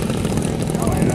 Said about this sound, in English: We'll see if Sloan can grease this with this crosswind